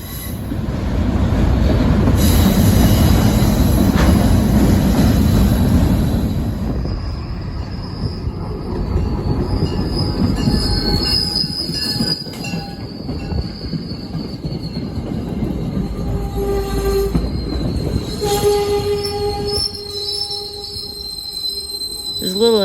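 A B40-8 locomotive on the Fitchburg local hauls a string of empty auto racks, rumbling loud and close with sustained wheel squeal and high screeching tones rising above the steady roll of the cars.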